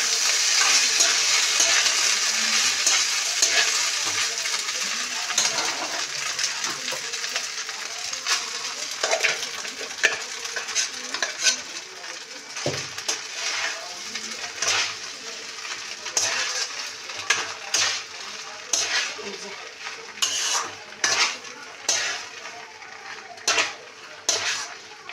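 Cooked rice is stir-fried with whole garam masala and salt in a pan over a low gas flame. A steady sizzle runs throughout, then turns into repeated scraping and tapping of the spatula against the pan, close and without speech.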